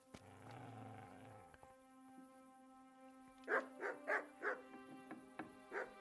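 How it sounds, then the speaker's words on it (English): A dog barks in the medieval video game Kingdom Come Deliverance, about six sharp, evenly spaced barks in the second half after quieter game ambience, moderately close. "I would think the barking would definitely be alerting him."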